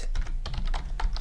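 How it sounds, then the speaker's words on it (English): A few quick keystrokes patter on a computer keyboard, close and fairly quiet, in an uneven rhythm with no talk. "And now I can just type in something"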